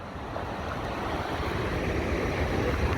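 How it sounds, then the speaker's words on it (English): Strong, steady wind gusts across an island by the water on a fishing trip in eastern Idaho, a loud continuous roar buffeting the microphone with no voices. "And the wind's up big time."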